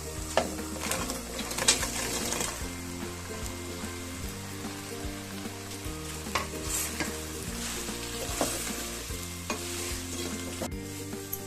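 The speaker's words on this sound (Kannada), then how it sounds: "ಇವಾಗ ಇದಕ್ಕೆ ಗೋಬಿ ಎಲ್ಲ ಹಾಕಿ ನಾವು ಮಿಕ್ಸ್ ಮಾಡ್ಕೊಳ್ಳೋಣ." Cauliflower florets are stirred into a bubbling homemade gobi manchurian gravy, making a continuous moderate sizzle with wet scraping and clicking of a spoon against the pan at irregular intervals.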